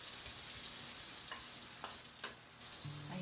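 Butter sizzles and fries steadily in a preheated pan, a close, even crackle with a few soft clinks of a utensil and no voices.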